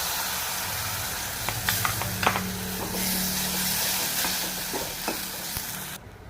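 Ground tulsi rasam paste goes into a hot pan, where a steady sizzle and frying hiss build up alongside a few short stirring clinks. The sound is close and moderately loud with no voices, and it cuts off sharply at the end.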